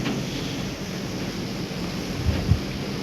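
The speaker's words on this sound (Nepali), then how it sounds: "बिचमा झरनाको आवाजहरू सुनिन्छ" A rushing waterfall on a forest trail roars as a steady, broad wash of falling water, fairly close and continuous, with a couple of low thumps near the end and no voices.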